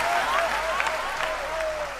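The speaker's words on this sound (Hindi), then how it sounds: "तालियों की गूंज से हौसला बढ़ा दो आप" Applause from an audience at a Hindi poetry recital, a continuous close wash of clapping throughout the short span with voices faintly mixed in.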